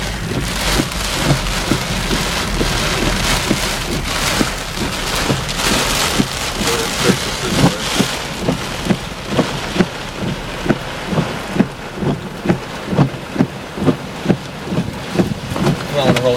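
Heavy rain pours down during a severe July storm in Cambridge City, Indiana, a dense steady roar with rhythmic thumping drops hitting a nearby surface throughout.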